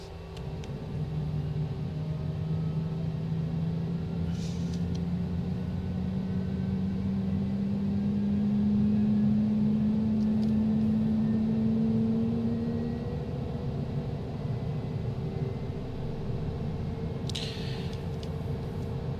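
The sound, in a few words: aircraft engine starting up and running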